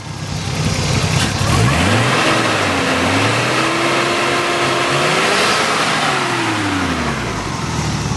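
A repaired Nissan Skyline engine revs up and down several times in smooth, rising and falling sweeps, loud and close, with no talking.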